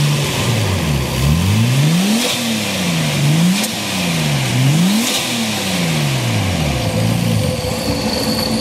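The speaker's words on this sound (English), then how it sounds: "One more rev. Give us a pop." A car engine revs repeatedly, climbing and falling in pitch about five times in a steady, loud, close rhythm, with no talk over it.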